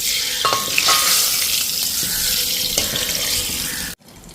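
Oil heated in a pan for tempering a fish curry sizzles loudly and steadily up close, with crackling bursts, before cutting off abruptly near the end.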